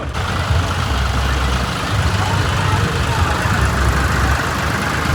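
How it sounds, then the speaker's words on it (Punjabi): A tractor engine rumbles past at close range during a village religious procession (nagar kirtan) in Jogipur, Punjab, a steady, loud low drone that holds for several seconds. "ਹਟ ਜਾ ਲੰਘ ਜਾਂਦੇ ਟਰੈਕਟਰ ਨੂੰ"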